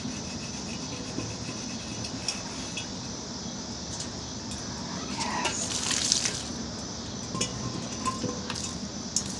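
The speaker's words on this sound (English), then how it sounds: "I'm going to kind of give it a good rinse off here." Water rinses over a painted glass piece outdoors, a steady hissing spray with a few faint clinks partway through.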